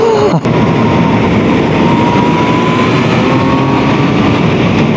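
A loud, steady Honda CB650R motorcycle engine roar runs throughout, with a deep broadband rumble and a faint rising whine, revving close by.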